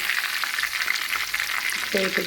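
Rava-coated Bootai fish, Mangalore style, fries in hot oil with a dense, bright continuous sizzle close up, with a brief clink of a utensil near the end.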